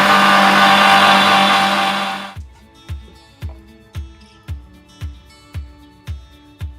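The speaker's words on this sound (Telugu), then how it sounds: "దీన్ని మెత్తగా మిక్సీ" A mixer grinder blending pumpkin with coconut whirs loudly for about two seconds and then cuts off, followed by a regular series of soft thumps about every half second.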